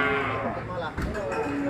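Cattle moo at an open-air cattle market in Sleman, with one low drawn-out call up close over the murmur of the market.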